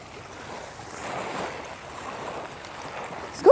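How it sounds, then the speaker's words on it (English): Waves wash steadily onto a short beach near Sydney Harbour, a soft continuous surf hiss with gentle swells, fairly distant and calm, with no voices. "even though we're on holidays, we get to walk on the beach."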